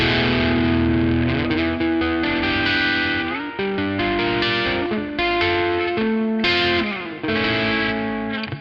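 A distorted electric guitar plays chords and single notes through a Two Notes Genome amp preset, loud, saturated and continuous, with chorus-like effects and no talking.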